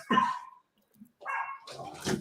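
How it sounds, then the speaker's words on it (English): A dog barks in two short bursts, a sharp yelp at the start and a rougher run of barks after a brief pause, close to the microphone in an indoor room with no talk. "Oh, sorry, I have another dog."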